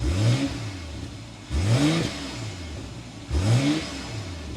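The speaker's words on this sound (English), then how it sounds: "We need to go inside and start it up so you can hear that exhaust note." A 2026 BMW X7 xDrive40i engine starts and revs three times in a row, each sharp rising exhaust roar dropping back to a rumbling idle between bursts, close and loud.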